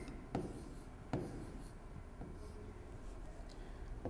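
Pencil scratching on paper as a number is written down in a grade 2 maths lesson, with a few sharp taps and strokes over a faint background hiss, close and quiet, no voices.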